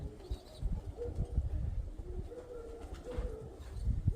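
Soft, low pigeon coos repeat through the clip, layered over a rumbling, muffled background with no talking.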